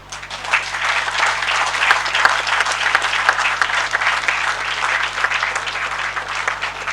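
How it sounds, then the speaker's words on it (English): A large audience claps warmly for young agripreneurs at an agricultural research station event, a dense, steady wash of many hands held at full strength throughout, with no voices above it. "give them a very happy clap"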